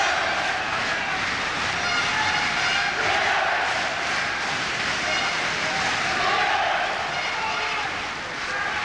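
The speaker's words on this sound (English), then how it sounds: "Crowd getting right behind McCullough now" A boxing hall crowd for Wayne McCullough against Johnny Bredahl roars steadily, a dense, sustained wash of raised voices that swells and eases, with commentary running over it.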